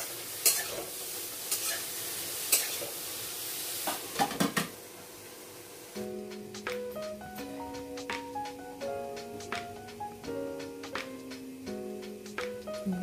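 Ridge gourd fries in a hot pan, hissing and sizzling steadily at first, then a spatula scrapes and clinks against the pan in repeated stirring strokes over a quieter sizzle.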